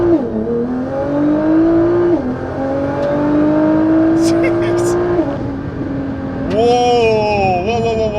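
A Nissan GTR running on E85 fuel accelerates hard, its engine loud and close with rising pitch sweeps through gear changes and a brief whistle near the end, while people inside talk over it.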